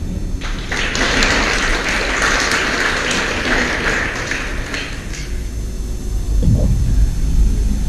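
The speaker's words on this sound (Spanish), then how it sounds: "Vamos a hacer un aplauso." Audience applause at a sermon gathering, a dense, even burst of clapping lasting several seconds before fading into low room rumble.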